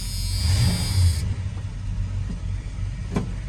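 A pickup truck used as a farm truck, engine idling smoothly with a steady low rumble that stays even throughout. A thin hiss sits over it at the start, and no one speaks.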